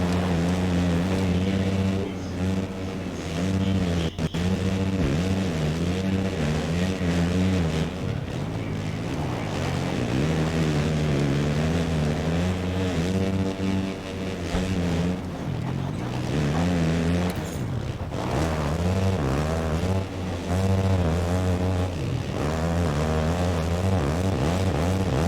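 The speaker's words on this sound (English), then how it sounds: "Randy racing right on the back of Sketchy, so three-way battle pretty soon" 450-class motocross bikes race in a national MX event, their engines a loud, continuous close-up drone that rises and falls in pitch as riders rev and shift, with no voices.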